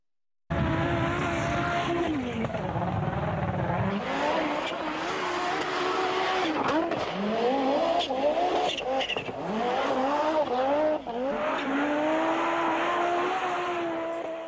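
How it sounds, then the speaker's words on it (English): A rally car engine roars loudly and close, rising and falling through gear changes and revs with occasional crackles, sustained for over ten seconds. "This thing used to roar. It was one of the best sounding engines in my opinion."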